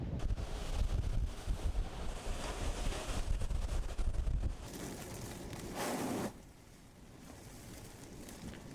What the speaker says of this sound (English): The tide has shifted, it's starting to come in, and also the wind as well as Hurricane Helene continues to creep closer to this tiny island of Cedar Key.